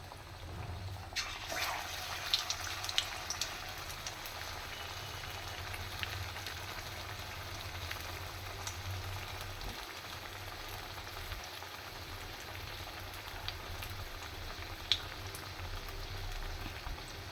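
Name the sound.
frying gram-flour battered egg chops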